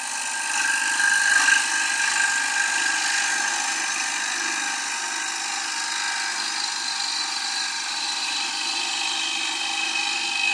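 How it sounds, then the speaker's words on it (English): A gouge cuts into a wooden bowl spinning on a lathe, giving a continuous high, airy hiss and whir that stays fairly steady and close throughout, with no talking. "now I'll rotate the gouge back and use the trailing wing"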